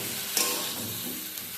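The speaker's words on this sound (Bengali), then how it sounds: "এবার বেগুনটাকেও মশলার সাথে কিছুক্ষণ একটু নাড়াচাড়া করে নেব।" Eggplant pieces stirred with spices in a hot pan, a soft steady sizzle with a brief scrape of the spoon, close and fairly quiet.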